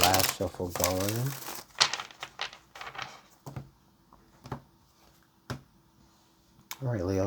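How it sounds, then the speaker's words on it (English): A tarot deck is shuffled by hand in a quiet room, producing soft crinkly riffles and scattered card slaps and taps. A voice speaks briefly at the start and end. "All right, let's get this last shuffle going."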